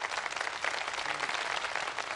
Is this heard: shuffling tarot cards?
no